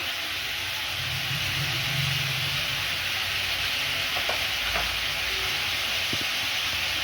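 Potatoes frying in a pan, a steady close sizzle and hiss with occasional soft stirring clinks and scrapes, no one speaking.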